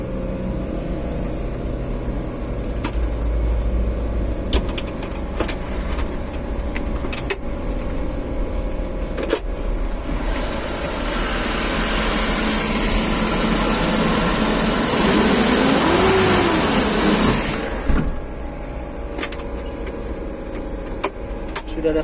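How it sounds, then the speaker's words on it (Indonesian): A Suzuki Carry Futura van engine idles steadily and smoothly up close, a low continuous hum with a brief swell in intensity partway through, with no voices. "Suara mesinnya pun halus."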